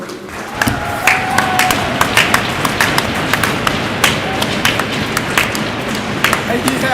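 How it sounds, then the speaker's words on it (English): Crowd applauding and clapping for a boys' hockey player, Ethan, inside an ice rink at a high school game, a steady patter of many hands with sharper claps and thuds, fairly loud and sustained. "So a round of applause for Ethan"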